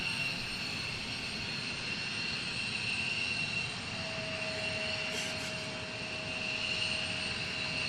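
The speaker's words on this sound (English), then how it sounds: "AirPods in before these F-15s take off." F-15 fighter jets taking off at an airport make a steady, broad roar with a high whine, held at moderate loudness without a break over several seconds.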